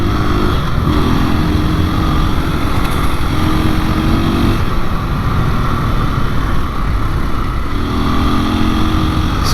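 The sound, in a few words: KTM 500 EXC-F or Beta 430 motorcycle riding on road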